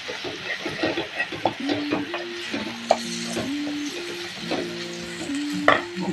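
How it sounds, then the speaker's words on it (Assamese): Onion, garlic and ginger paste frying in a pan with fried onions, a steady sizzle broken by repeated scraping stirs of a utensil, with a tonal hum running under it at close range. "ইয়াতে মই পিঁয়াজ আৰু নহৰু আদাখিনি মিক্স কৰি থৈছিলোঁ, সেইখিনি দি ভাজি থোৱা পিঁয়াজখিনি দি দিছোঁ।"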